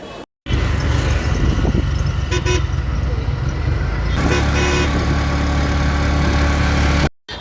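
Auto rickshaw ride from Krishnanagar to Amghata, with a steady loud engine and road rumble throughout and a brief horn toot partway through, the clip cut off sharply at both ends.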